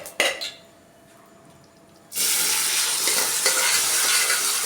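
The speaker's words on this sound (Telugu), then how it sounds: "మనము బాగా ఫ్రై చేసుకుందాము" Camel meat frying in hot oil in a kadai: after a brief clatter and quiet moment, a loud, steady sizzle fills the rest, close and continuous.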